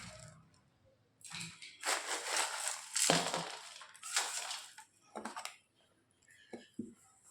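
Raw mango being crushed and pounded with jaggery for a pickle, sounding as repeated gritty crushing strokes in bursts with short pauses, close and fairly loud, with no talking.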